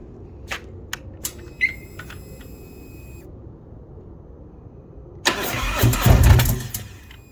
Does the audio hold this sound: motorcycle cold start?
yes